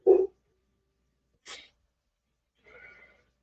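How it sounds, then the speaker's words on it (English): A dog barks in three short, separate bursts, the first loud and close, the next two softer and more spread out, with quiet gaps between them. "She's been extra barky."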